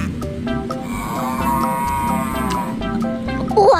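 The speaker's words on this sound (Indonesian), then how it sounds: "ini ada kerbau." A water buffalo lets out a long, drawn-out moo, a deep, steady bellow that carries through the clip at close range.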